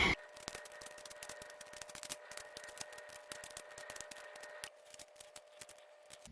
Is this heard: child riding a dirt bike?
no